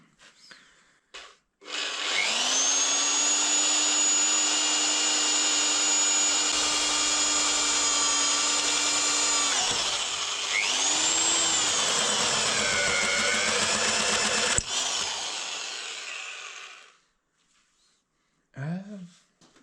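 A power drill whirs with a steady high-pitched whine for several seconds, its pitch dipping and wavering midway, then winds down and stops; a brief thump follows.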